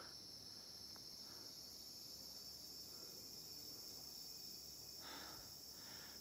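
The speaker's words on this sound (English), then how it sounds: "Cicadas are just not dead and won't die." Steady high-pitched cicada buzzing drones continuously in the background, faint and distant, with a brief louder swell near the end.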